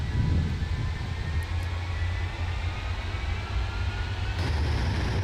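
Avro Vulcan jet bomber engines in Microsoft Flight Simulator 2024, a steady, loud, continuous roar with a deep low rumble and a faint high whine, holding level throughout with a slight swell near the end.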